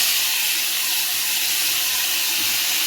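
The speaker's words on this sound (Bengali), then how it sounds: "দিয়ে দেবো কেটে রাখা আলু।" Cut potatoes fry in hot oil with nigella seeds, giving a steady, loud sizzling hiss that runs evenly from start to finish with no break.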